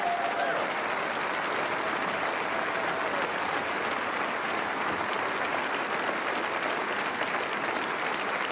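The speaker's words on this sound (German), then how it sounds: "Geben Sie sich noch einen riesen Applaus." An audience applauds a vocal group at a concert in Heidelberg, a thick, continuous wash of many hands clapping, loud and unbroken throughout.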